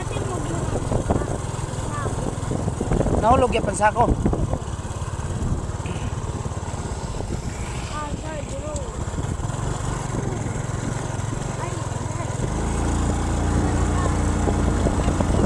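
A motorcycle engine drones close by throughout a stroll, steady and loud with a rougher passing swell toward the end, while people talk over it.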